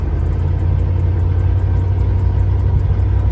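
A 1986 Oldsmobile Cutlass Supreme Brougham awaiting transmission work runs steadily on its first drive, a loud, constant low engine rumble with road drone and no voices.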